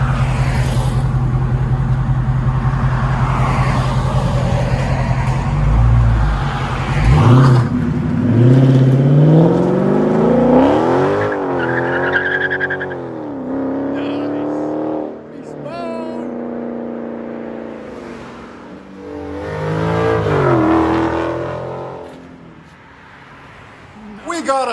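A 2020 Dodge Charger 392 HEMI Scat Pack with a 6.4L V8 and aftermarket exhaust idles with a deep rumble, then revs repeatedly in rising and falling bursts, loud and close, while someone talks over it.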